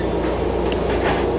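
A SEPTA Route 23 Chestnut Hill trolley rolls along the rails with a loud, steady rumble, wheel noise and faint rhythmic clicks, close by and with no speech.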